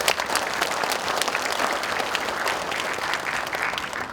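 A county meeting audience at an arts hall in Gurye gives a dense, continuous round of applause that stays loud and even for the full four seconds.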